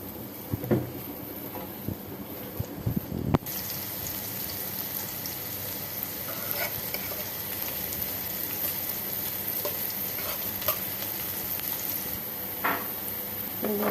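Papaya frying in a pan with onion and chili, a loud continuous sizzle that jumps up sharply as the papaya hits the oil, with occasional stirring scrapes, close and without talk.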